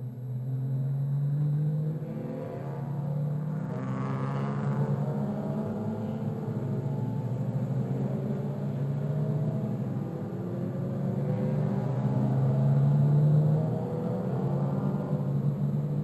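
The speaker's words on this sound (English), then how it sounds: "this time round should be racing as Neville Haley comes down the main straight now" Touring race cars at the Sandown 3 Hour race in 1996 roar along the main straight, a continuous distant engine drone with rising and falling pitch as cars pass, moderately loud and without speech.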